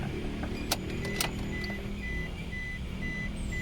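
A car engine idles roughly at low RPM, around 500, producing a continuous low rumbling drone with uneven pulsing, heard close and alone.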